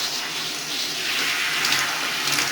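Warm shower water runs steadily and fairly close while rinsing hair, a continuous broad hiss with slight splashing variations throughout, no voices.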